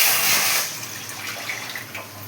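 Water poured into a pressure cooker of Tamil wedding-style sambar with dal and spices, a steady splashing gush that is strongest at the start and then settles to a softer, continuing trickle.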